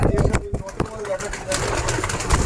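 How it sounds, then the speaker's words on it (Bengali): A Kalshira pigeon coos in a loft, low throaty calls close by with other birds stirring, and a voice speaking over part of it. "এটা একটা কালশিরা পায়রা আছে"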